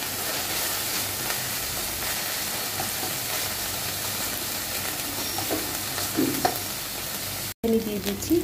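Hilsa fish cooking down in mustard paste in a pan, with a steady close sizzle and a few soft stirring scrapes near the end, broken by a brief gap.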